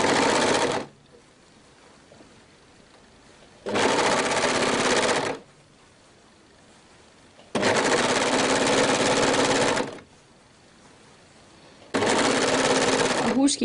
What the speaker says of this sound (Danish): Og så syr vi hele vejen rundt igennem alle tre lag.